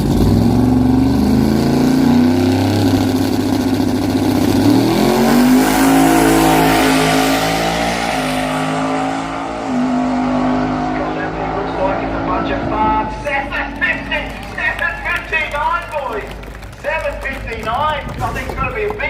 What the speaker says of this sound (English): Watch this thing go, real steel street car.